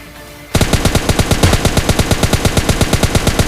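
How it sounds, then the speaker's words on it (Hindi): Kar98 rifle fire in the video game PUBG Mobile Lite, starting after a short quiet stretch as a rapid, evenly spaced train of loud, sharp shots that carries on to the end. "अब आवाज़ सुनी होगी आपने कार 98 चलने की"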